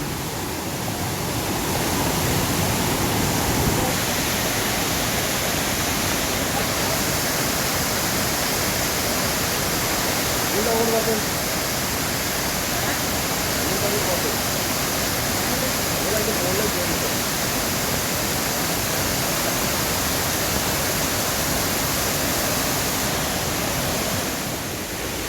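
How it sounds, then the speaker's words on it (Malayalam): Water pours steadily down the Chinganchira waterfall in a steady, broadband rush that holds constant and loud throughout, with no pauses. "വെള്ളം നല്ല വന്നുകൊണ്ടിരിക്കുന്നുണ്ട്"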